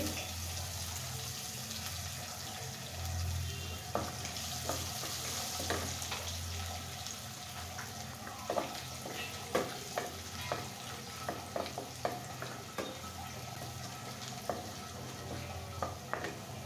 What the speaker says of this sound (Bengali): আমি রসুন কুচি দিয়ে দিচ্ছি।